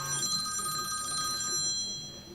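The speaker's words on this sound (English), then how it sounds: "When the phone rings and I'm talking, it almost always means something's gone wrong" Telephone ringing during a live talk show on photographing art: a steady, bright electronic ring that sounds continuously and fairly loudly, alone without talk.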